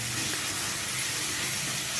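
Tomatoes frying in a pan for pasta, a steady close hiss and sizzle without pause, no voices.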